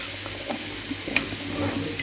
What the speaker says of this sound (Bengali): একটা লাবড়ার তরকারি সব রকম সবজি দিয়ে ডাটা শাক দিয়ে এটা এখনও কষাচ্ছি